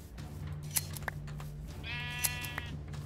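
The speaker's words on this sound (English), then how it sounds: "There you are, sheep." Sheep bleating in Minecraft, one wavering bleat in the middle over a steady low game hum, with a few scattered clicks; no speech.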